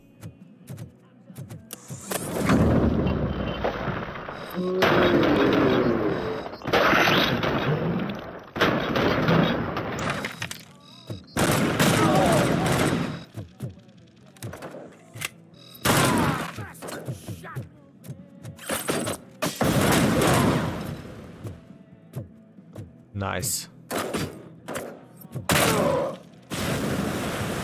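Gunfire in the shooter game Robocop Rogue City, loud bursts and booming shots in repeated volleys with mechanical clatter between them, and a voice speaking briefly over the action.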